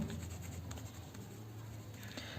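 A pen writes out the working for a Class 10 linear equations problem, giving soft, faint scratching strokes that run steadily and quietly under a low background hum, with no voice heard.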